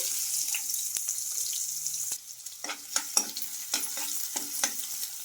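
Oil sizzles and crackles as tempering spices and chopped onions drop into a hot pan, with a few sharp clatters of a spoon stirring.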